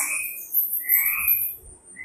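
A frog croaks in a few short, raspy bursts, fairly close and alone, with no talking over it and a faint hiss behind.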